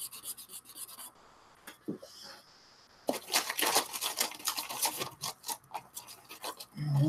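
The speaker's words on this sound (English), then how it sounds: "It's more of a polishing stick than a sanding stick." A polishing stick rubs back and forth on a plastic model part at close range, making short, scratchy rasping strokes that fall silent briefly and then return in a quick run of repeated passes.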